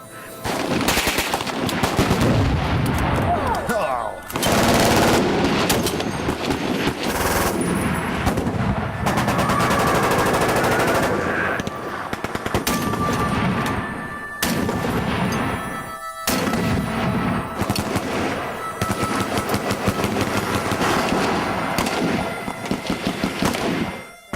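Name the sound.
gunfire from a powerful .50 caliber rifle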